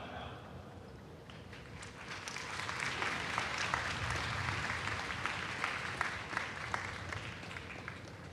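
A crowd at a National Day ceremony applauds the foreign dignitaries, including Tuvalu's prime minister, with dense, sustained clapping that swells toward the middle and holds steady.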